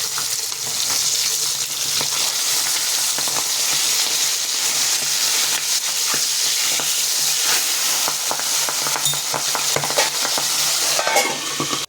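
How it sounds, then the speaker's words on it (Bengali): Fish fries in oil in a pan, a dense, even sizzle with bursts of spattering and crackle holding at a steady loud level throughout, with no voices. "মাছটা ভাজা হয়ে গেছে।"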